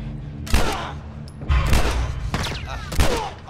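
Gunfire in The Last of Us video game: three heavy, booming shots about a second apart ring out close and loud, each trailing off into a short echo.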